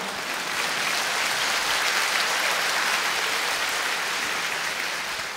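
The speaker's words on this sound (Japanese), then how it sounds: "どうして歌の時よりも拍手が多いの" Concert audience at a 1995 show breaks into steady, dense applause, a continuous wash of clapping from a large crowd that holds at an even level throughout.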